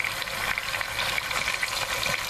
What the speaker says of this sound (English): I wanted y'all to hear that sizzle